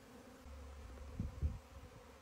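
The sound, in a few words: swarming honey bees buzzing in a shrub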